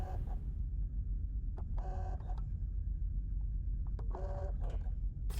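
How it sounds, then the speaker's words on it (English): Mechanical whirring and chattering like an old printer or hard drive in the game Firmament, with short buzzy bursts and clicks repeating over a steady low hum. "Sounds like an old printer or hard drive."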